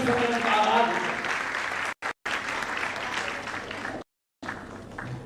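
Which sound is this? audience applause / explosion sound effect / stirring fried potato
audience applause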